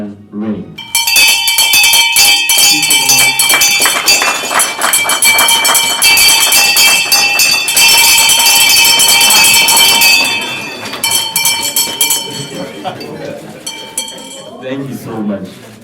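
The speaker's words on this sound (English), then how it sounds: "then you ring the bell" Graduates at a mentorship program graduation ceremony ring a hand bell, its bright clanging strokes repeating loudly and continuously for several seconds before fading, with people talking and a crowd around it.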